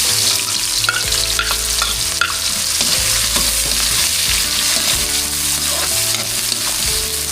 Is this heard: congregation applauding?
no